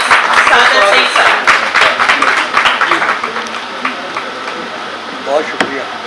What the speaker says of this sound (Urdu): ایسی ہی ایک ہستی کے لیے بھرپور تالیوں میں ان کا استقبال کیجیے